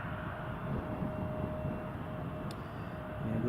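An Eastern Airways aircraft in KLM livery at Newcastle Airport, a steady distant engine rumble with a faint tonal whine, fairly constant throughout.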